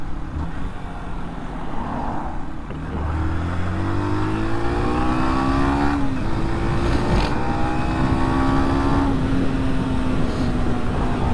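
A motorcycle rides through a town in Northern Ireland, its engine droning loud and steady throughout, with rising and falling pitch as it accelerates and shifts gears, under heavy wind rumble.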